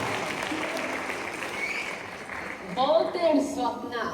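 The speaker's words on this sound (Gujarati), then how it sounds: "એકવાર જોરદાર તાળીઓ થઈ જાય" Audience applause at a Jain Panch Kalyanak Mahotsav celebration during a dream-interpretation scene, a burst of clapping rising near the end of a steady crowd murmur.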